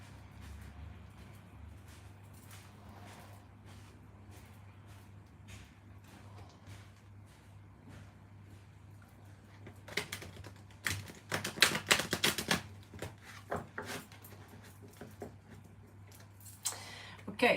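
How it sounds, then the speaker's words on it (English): Tarot cards riffle and slap in crisp bursts, quiet rustling at first, then louder rapid shuffling near the end, with a low steady hum underneath. "Man, these cards are difficult to shuffle."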